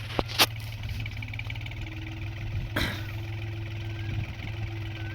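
A tractor engine runs at a steady, low idle-like drone in a farm field during weeding work, with a few sharp knocks and clicks breaking the even hum.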